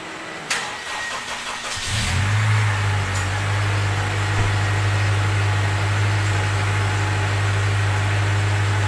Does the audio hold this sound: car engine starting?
yes